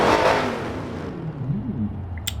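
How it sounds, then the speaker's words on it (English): A Dodge Charger Hellcat's supercharged V8 roars loudly at first, then settles as revs rise and fall, with a thin supercharger whine sweeping up over the engine note, close by and with no talking. "You could distinctly hear the supercharger whine."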